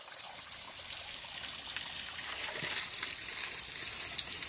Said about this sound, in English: Water coming right out of the side of the mountain at Winding Stair Gap.